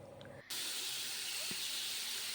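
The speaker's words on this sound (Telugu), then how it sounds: "ఆయిల్లో ఫ్రై చేసుకోవాలి." Paneer cubes frying in hot oil give a steady, loud, close hiss that cuts in abruptly after a brief quieter moment and holds evenly to the end.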